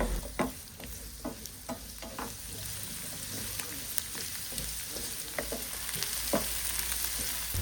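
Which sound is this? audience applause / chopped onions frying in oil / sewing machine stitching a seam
chopped onions frying in oil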